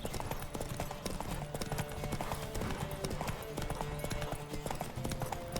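Hooves of Roach, a horse in The Witcher 3, clip-clop in a rapid galloping rhythm, close and continuous under a busy game soundscape, with a voice talking faintly at times.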